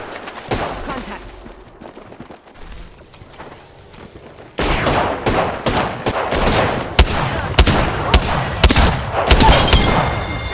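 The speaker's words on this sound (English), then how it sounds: "Getting shot at." Gunfire in the Apex Legends battle royale game: sparse distant shots give way to a sudden loud stretch of rapid automatic fire and crackling bursts. Sharp, dense and close, it continues to the end.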